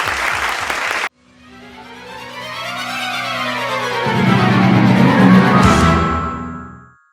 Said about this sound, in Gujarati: જોરદાર તાળીથી સ્વાગત કરીએ.